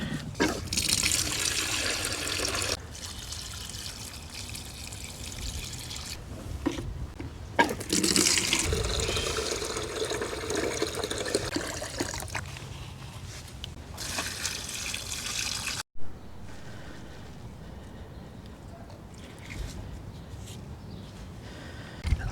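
Water pours steadily into potted plants in an urban garden, a continuous close splashing and trickling that stops and restarts in bursts, with a quieter running flow at the end.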